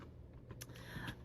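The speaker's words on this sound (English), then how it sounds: "typing with one hand is not working out for me" Someone types on a computer keyboard with one hand, a few scattered soft key clicks, faint and close, with no talking.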